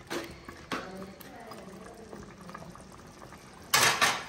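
Curry simmering in plain water in a pot, a quiet steady bubbling close by, with a sharper burst of liquid noise near the end.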